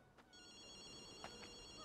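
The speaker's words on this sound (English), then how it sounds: "The phone is calling us." An in-game telephone rings in Ghostwire Tokyo, a steady electronic bell tone holding through most of the short stretch, fairly quiet against a low ambient game background.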